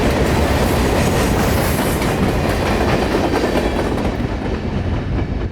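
A CSX ST70AH locomotive hauling a freight train past in Central Florida, with a steady loud roar of wheels and rhythmic clickety-clack of rail cars close by, tapering slightly at the end.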